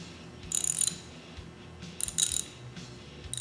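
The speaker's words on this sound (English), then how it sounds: "just move the wrench back and forth and it will tighten or loosen the bolt" A socket wrench ratchets back and forth on a bolt: two close bursts of rapid metallic clicking, each about half a second long, separated by quieter handling noise.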